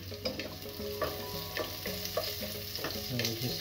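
Onion sautéing in a hot pan for a dish of tinulang manok, a steady close sizzle punctuated by repeated soft scrapes and taps of a spoon as it is stirred.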